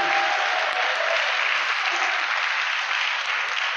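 A church congregation applauds in a thick, sustained roar of clapping from many hands, loud and even throughout without pause.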